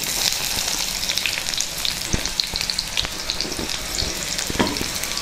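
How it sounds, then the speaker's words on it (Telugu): Grated carrot frying in hot tempering oil gives a loud, busy sizzle with scattered crackles and occasional stirring clicks. The sound is close-up, continuous and unbroken by speech. "ముందుగా తురుము పెట్టుకున్న క్యారెట్ తురుముని ఇందులో వేసేద్దాం."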